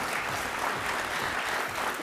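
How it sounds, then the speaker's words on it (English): Sustained audience applause at an awards ceremony, a thick continuous roar of many hands clapping at even loudness. "Another round of applause"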